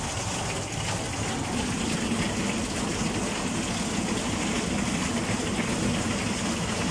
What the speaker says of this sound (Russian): О, все, понесся, ливень пошел.